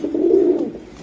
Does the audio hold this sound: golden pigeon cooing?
yes